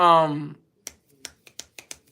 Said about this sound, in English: got the snapping my fingers now